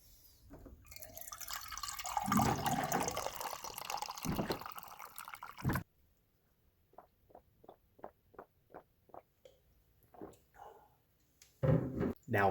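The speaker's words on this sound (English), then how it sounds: "first thing I put in my body is water" Water pours into a glass with a splashing rush, then a series of evenly spaced drips or gulps follows in quiet, and another burst of liquid sound comes at the end.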